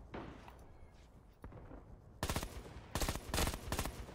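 Automatic weapons fire in Rising Storm 2: Vietnam from the North Vietnamese side, heard first as faint distant pops and then as two loud close bursts of rapid shots.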